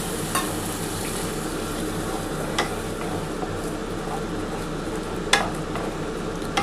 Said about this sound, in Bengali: সামান্য একটু জল দিয়ে এটা একটুখানি ভালো করে আগে কষিয়ে নিচ্ছি।